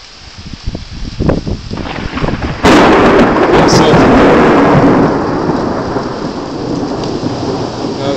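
A sudden loud thunderclap cracks over steady heavy rain, and the rumble rolls on as the downpour keeps pouring.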